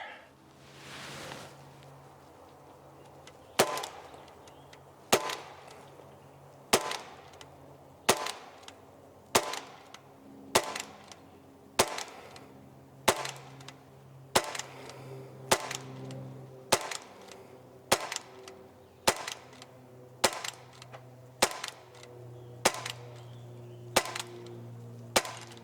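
An S&W M&P 2.0 BB pistol fires about sixteen sharp, loud cracks at an even pace of roughly one shot every second and a half, each a crisp snap over quiet background.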